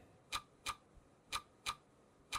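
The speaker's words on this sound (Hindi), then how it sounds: "पर ये वो टिक टिक की आवाज़ और बढ़ती जा रही थी" Crisp, sharp ticks like a clock, arriving in a regular rhythm of about five clicks with one softer beat between them, close and fairly quiet against a near-silent background.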